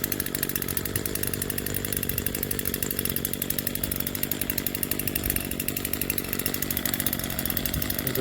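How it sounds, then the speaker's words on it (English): An Echo SRM 225 two-stroke grass trimmer engine runs steadily at a high, buzzing idle, close and loud with no break throughout. "Little motor sounds pretty good for a 2-stroke"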